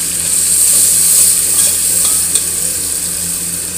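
Peeled tomatoes fry in a pan with a steady, close, loud sizzle, broken by a few light stirring scrapes.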